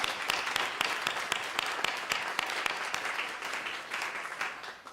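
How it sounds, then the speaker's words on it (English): An audience at a technical forum claps for the day's presenters, brisk crisp applause from a modest crowd that stays steady for several seconds, then thins slightly toward the end. "Let's give a round of applause to all of our presenters today."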